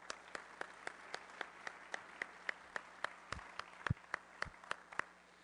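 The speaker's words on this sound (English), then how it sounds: "Let's give her one more round of applause." Sparse, faint clapping from a small audience at a Rotary Club of Denver meeting, a steady patter of individual hand claps with no talking.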